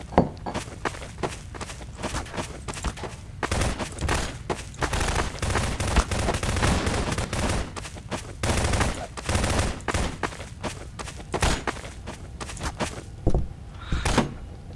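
Gunfire in the Prop Hunt video game, shots fired at disguised props, with dense bursts of rapid shots and footsteps throughout, loud and busy with occasional quieter gaps.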